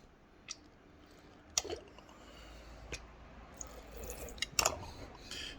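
Brine is injected into a pork butt held in a cooler, giving faint wet squishes and scattered drips and clicks over a quiet background, with a few sharper sloshing spikes.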